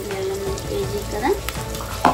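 Ginger garlic paste sizzles in a pan of mutton curry, a steady frying hiss with light stirring scrapes and a brief louder splutter near the end, close and moderately loud with no talk.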